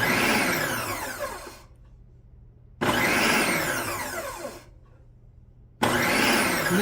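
A Ninja NF701 food processor whirs in chop mode in three loud bursts, each spinning up sharply, whining as the blade turns, then stopping briefly before the next pulse.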